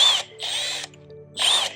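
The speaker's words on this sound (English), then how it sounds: "Now let's put our drill bit back in." A power drill's chuck ratchets in three bursts of clicking while a bit is swapped, close up and loud, with short pauses between bursts.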